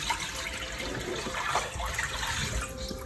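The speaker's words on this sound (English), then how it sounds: "I'm just going to pour that water away." Dirty wash water from cleaning an oily BMC performance air filter pours away in a steady, rushing gush, close and continuous with a faint trickle underneath.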